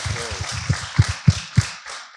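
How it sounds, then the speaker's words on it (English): Audience at a wealth summit claps in a short burst after a speaker's announcement, a few distinct sharp claps standing out over a soft spread of applause, moderately close and fading within a couple of seconds. "Clap that."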